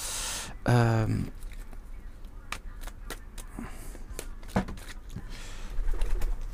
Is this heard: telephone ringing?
no